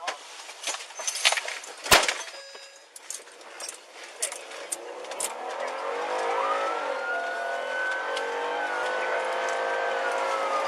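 A car speeding off during a police chase: a few scattered knocks and bumps give way to a rising engine roar that builds into a steady, loud acceleration drone for the second half.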